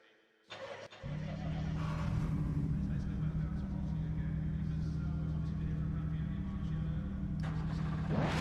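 Mercedes-AMG GT3 racing car engines at Silverstone in a video game roar to life after a brief pause, then hold a loud, steady mechanical drone with a sustained low hum, rising again at the end.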